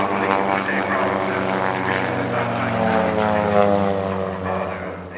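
Vintage propeller aircraft flying at an evening air display at Shuttleworth, its piston engine droning steadily with a strong harmonic hum that swells slightly as it passes, no talk.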